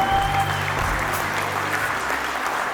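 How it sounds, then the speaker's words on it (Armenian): Wedding guests at an Armenian wedding celebration applaud the newlyweds in a steady, dense burst of clapping from a full room, continuous and fairly loud for the whole stretch. "եվս մեկ անգամ ծափարենք"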